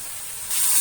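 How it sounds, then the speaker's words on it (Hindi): Grated carrot halwa fries in ghee with a short, bright sizzling hiss that swells louder halfway through the brief moment. "इसी तरह इसे भूनते रहना यहाँ तक कि ये जो हलवा है ये तमाम घी छोड़ दे।"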